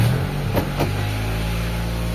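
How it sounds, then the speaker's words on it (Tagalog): A carbureted Nissan Sentra engine, just after a carburetor float adjustment, catches and settles into a steady, close, low idle rumble that runs through the whole stretch without talk. "So ngayon, try ulit natin paandarin."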